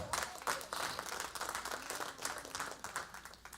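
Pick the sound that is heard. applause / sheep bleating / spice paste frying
applause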